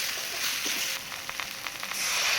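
Pointed gourd and fried potatoes are sautéed in a pan with a continuous, loud sizzle and a few soft stirring taps.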